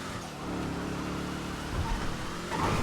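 A Weeny Dynasty car drives steadily in the video game GTA 5 Online, its engine a low, continuous hum with some bumping and rumbling near the end, heard alone.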